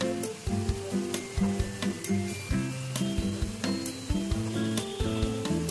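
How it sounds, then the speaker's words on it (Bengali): Potatoes fry in a pan of ghee and oil with a steady, close sizzle that runs the whole time, under a layer of tonal background sound. "যতক্ষণ আলুটা ভাজা হচ্ছে"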